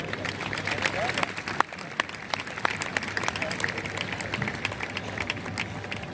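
At a prayer festival gathering in Jharkhand, an audience claps in a loose, uneven patter with some sharper individual claps standing out, moderately distant, with faint crowd murmur underneath.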